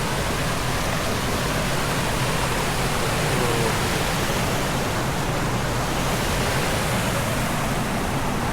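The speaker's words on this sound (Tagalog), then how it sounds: "Sarap pakinggan ng hagas ng tubig ng" Rushing water of Casaroro Falls roars steadily and loudly without a break, a dense, continuous wash of sound from the nearby waterfall.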